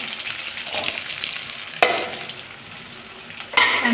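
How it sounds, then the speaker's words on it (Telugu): Onions and carrots fry in hot oil for carrot fried rice, giving a close, continuous sizzle with sharp stirring clatters at intervals and no voices. "ఆనియన్స్ ఎలా ఫ్రై అయిన తర్వాత క్యారెట్ వేసేసుకోవాలి."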